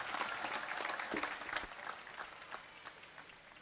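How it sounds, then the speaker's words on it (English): Audience applause at a college convocation ceremony for a physical education degree college, a dense steady wash of many hands clapping together, fairly distant and even throughout, with no talk over it. "I'll request the audience for a big round of applause for 50 years of excellence."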